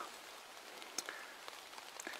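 Rain pattering on a hammock during a night camp, with scattered distinct drops tapping over a steady soft hiss; fairly faint overall.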